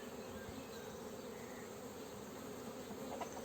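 Dense, continuous buzzing of many honeybees, close and steady, filling the whole stretch with no voices.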